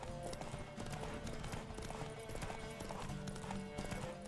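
Rapid, rhythmic hoofbeats of a galloping horse in The Witcher 3, constant and fairly close, over a busy game soundtrack with occasional faint voices.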